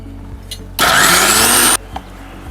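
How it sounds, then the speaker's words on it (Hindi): A mixer grinder blends a watery peanut mixture, a loud harsh whirring burst lasting about a second, close up, with quiet clicks before and after. "मिक्सी चलाएंगे।"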